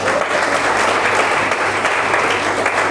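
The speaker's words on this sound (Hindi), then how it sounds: "इनके लिए ताली बजा दो।" Steady, dense applause from a seated audience at a motivational talk fills the whole stretch, loud and close with no pauses and no speech over it.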